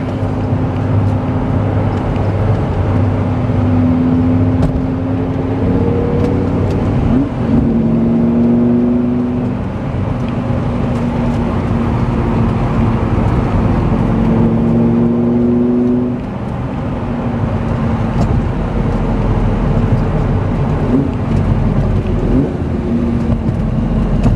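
A 2005 Lamborghini Gallardo engine drones up through fourth, fifth and sixth gears, its pitch climbing and then dropping at each shift. The engine sound is loud and close throughout, with no talking.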